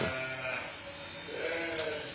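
A Zwartbles sheep being shorn: a low electric buzz of clippers runs steadily and close, with the sheep's faint murmuring and a short sharp click near the end.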